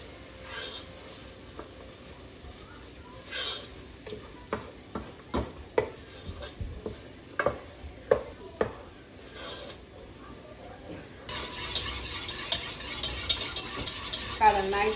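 A spoon stirs a thick milk, cream and cheese sauce in a pan with a series of soft scraping knocks, and a faint sizzle rises toward the end, close and quiet.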